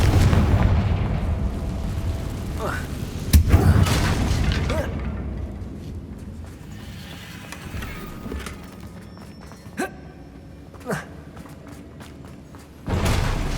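Confringo blasting curse explosions in Hogwarts Legacy while exploring the mines: several sharp booming blasts, loud and close, with lighter impacts and rumble between them, ending in another broad burst.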